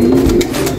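A mixed Valencian and sport-breed pigeon coos in a low, steady, throaty murmur, close and alone, lasting under a second.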